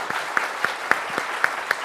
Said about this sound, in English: let's give a huge round of applause for our amazing panel